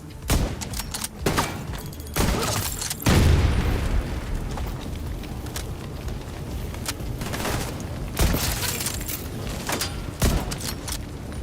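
Frag grenade blasts and gunfire in The Division 2, with heavy booming explosions and bursts of shots arriving in irregular clusters, loud and close, with a deep rumbling roar swelling after one blast.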